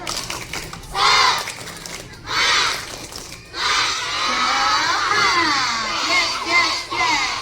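Schoolchildren at an elementary school belt out a loud 'tepuk semangat' clapping chant, with bursts of shouting and rhythmic cheering rising and falling across several seconds, the crowd of young voices close and energetic.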